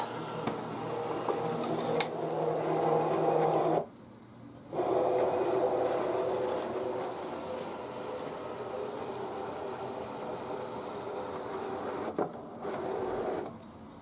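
A machine cuts a keychain project, a steady mechanical whir running the whole time with a brief stop near the middle and a short dip near the end.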